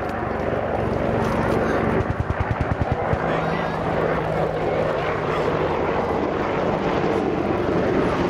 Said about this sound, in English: Gunship 1 from the right just destroyed the remaining enemy with a strafing run